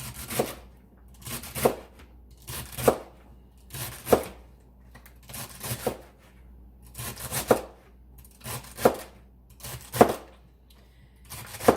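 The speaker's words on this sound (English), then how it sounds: "take the stalks and kind of slice down the end of those and make them smaller" A knife slicing through celery stalks on a cutting board, crisp separate crunchy cuts repeating at a steady unhurried rhythm about once a second, close and clear with no talking.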